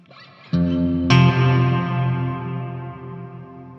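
Guitar run through a Biyang hall reverb pedal with blend and time turned up, two struck chords blooming into a long, shimmering wash that slowly decays, alone and fairly loud.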